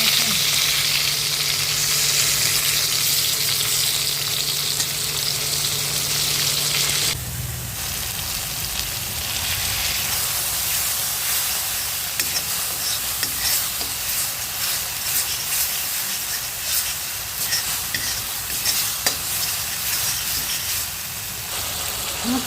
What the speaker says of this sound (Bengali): এখন আবার একটু লাল করে ভেজে নিচ্ছি